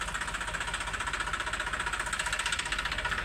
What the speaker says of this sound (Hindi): हमारे ट्रैक्टर पहुँची गलान